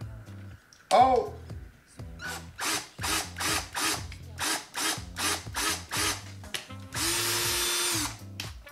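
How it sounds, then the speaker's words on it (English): A power drill whirs in repeated short bursts, driving into wood with ratcheting mechanical sounds, loud and close, ending in one longer continuous run; a voice exclaims briefly near the start. "You drill it in a little bit"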